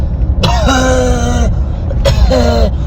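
A voice produces a strained, harsh cough-like sound in two long bursts, clearly an imitation of coughing rather than a real one, loud and close.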